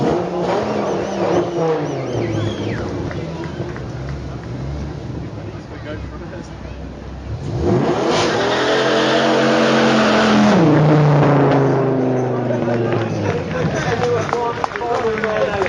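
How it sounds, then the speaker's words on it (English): An 8-litre Dodge Viper supercar runs near and loud, its engine rising and falling with revving and acceleration, growing stronger midway, while a commentator talks over it. "well done to the driver and owner of that fantastic 8-litre Dodge Viper"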